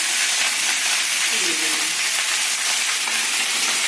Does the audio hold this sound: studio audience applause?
no